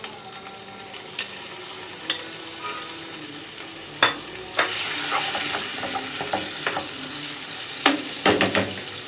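Chicken breast pieces seasoned with garlic powder, parsley, chicken spice, salt and pepper fry in a home kitchen pan, giving a steady close sizzle with scattered pops and occasional clinks of a utensil, no talking.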